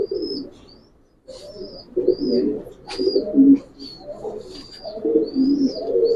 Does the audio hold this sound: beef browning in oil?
no